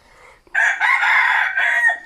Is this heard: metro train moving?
no